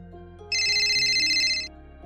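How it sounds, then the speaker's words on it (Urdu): A telephone rings once in a short, bright electronic trill of about a second, loud and close, over a soft musical background. "اتنے میں فون کی گھنٹی بول اٹھی۔"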